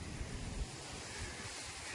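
Steady wind blowing across the microphone, a continuous breathy rush with low rumbling gusts and no voices.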